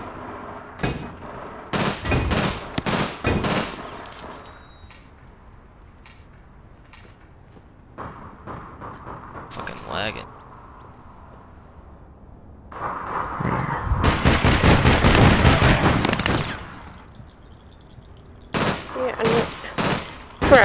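Shotgun blasts from All Points Bulletin go off in irregular clusters of sharp, loud reports, with quiet gaps between them and one long dense volley. People talk briefly in the background.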